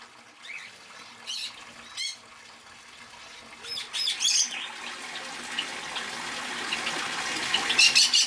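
Pet birds chirping and tweeting in a home aviary, with repeated short bright calls and squawks building into a denser chorus toward the end, heard at close range with no speech.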